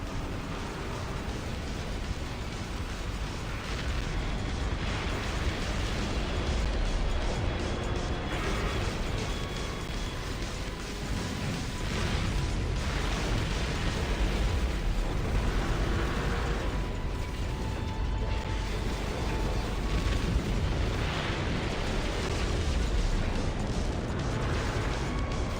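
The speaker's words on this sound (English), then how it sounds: "Enemy missile inbound." Enemy missile explosions during a space pirate fight in No Man's Sky: a steady wash of rumbling blasts and mechanical noise, several swelling bursts, moderately loud and continuous without speech.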